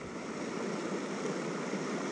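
Brook on Dartmoor flowing with a steady, close, even wash of rushing water and no breaks.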